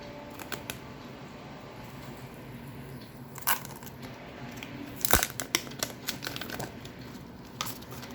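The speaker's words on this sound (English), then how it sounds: "Let's take out this paper." Paper comes out of a Samsung M31s phone box, heard as scattered close crinkles and rustles with a few sharper crackling bursts against a quiet background.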